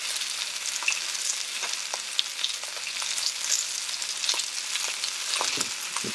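Chicken pieces sizzling and frying in a hot wok for Kung Pao chicken, a steady close crackle with occasional sharper pops and stirring scrapes, no talking.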